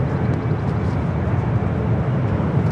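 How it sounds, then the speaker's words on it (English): United Airlines Boeing 787-10 Dreamliner taking off from LAX, a steady broad engine roar with strong low rumble, held at even loudness throughout without talk. "United Airlines Flight 39 taking off to Tokyo Haneda on the 787-10 Dreamliner"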